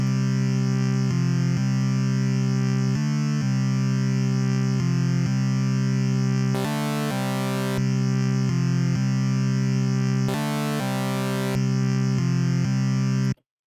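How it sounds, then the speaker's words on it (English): A synth sound run through the FL Studio Hardcore plugin's guitar-rig distortion, a loud, saturated buzzing tone playing a steady repeating pattern, with brief bursts of bright noisy crunch, no talking. "it's essentially applying almost a guitar rig to your sound"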